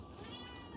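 A house cat gives a short, mid-pitched meow up close in an indoor Christmas-time home setting, with a faint background hum.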